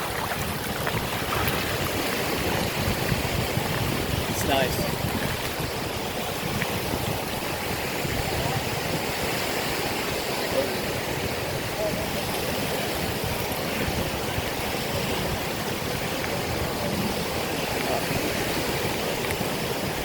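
Ocean waves wash onto a Sanibel Island beach while bikes roll through the shallow surf, a steady, fairly soft broadband rush lasting the whole time, with brief casual talk over it.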